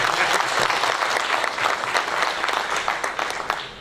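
An audience of students at a tax education seminar claps steadily, a thick, even round of applause that fills the room and tapers only slightly near the end.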